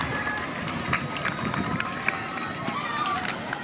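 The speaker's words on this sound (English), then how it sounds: "let's give them a big hand of applause" Audience applause for prize winners at a school prize-giving ceremony, a steady dense wash of many hands clapping from a crowd, continuous and fairly even throughout.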